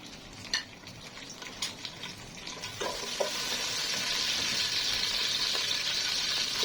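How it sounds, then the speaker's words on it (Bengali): Whole garam masala hits hot oil for pulao, a few taps of a spoon against the pan giving way to a steady, close sizzle that builds and holds. "এখন আমি পোলাওটা রান্না করবো, সেই জন্য আমি তেলটা দিয়ে দিলাম। অল্প করে তেল দিলাম"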